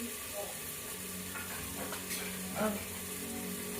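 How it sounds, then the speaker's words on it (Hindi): Dry fennel and coriander spices sizzle in a hot pan, a soft, steady frying hiss with a few brief crackles and a stir partway through, quiet and close. "अब मैं डालूंगी इसमें सूखे मसाले, सौंफ धनिया डालूंगी"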